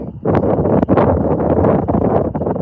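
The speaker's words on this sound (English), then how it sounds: "It's getting really windy out here, if you can't tell." Strong wind roars and buffets the microphone in loud, rumbling gusts, filling the whole clip outdoors with no clear speech.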